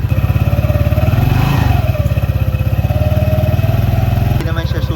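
A scooter engine, freshly fitted with a new clutch bell and springs, idles with a rapid close putter and revs briefly, loud and continuous, with a voice over it.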